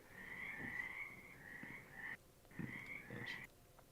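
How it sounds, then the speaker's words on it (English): Frogs croak steadily in the background, a faint ambient chorus of rasping, pulsing calls that rise and fall in overlapping bursts with no talk over them. "I love the sound of the frogs in the background"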